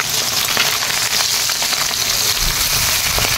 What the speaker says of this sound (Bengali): মাছটা সর্ষের তেল দিয়ে ভাজবো।